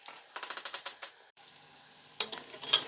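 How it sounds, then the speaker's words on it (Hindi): Onions frying in a pan toward light brown for Kashmiri-style white lobia, a soft sizzle with a run of quick stirring scrapes, a brief pause, then more scraping and sizzling close by. "इसको हमने प्याज को फ्राई करना है, लाइट ब्राउन होने तक।"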